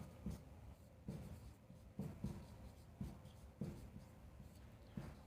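Chalk or marker scratching across a classroom board in short rhythmic strokes, roughly one burst per second, soft and close with no voices.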